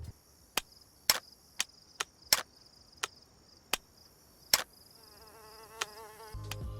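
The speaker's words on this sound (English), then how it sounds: "There's also now a new sound for when you switch fire modes." Sharp mechanical clicks of a gun's fire-mode switch in the video game DayZ repeat at uneven intervals, about ten of them, crisp and close over a faint background hum.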